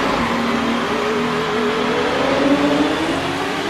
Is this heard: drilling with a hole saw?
no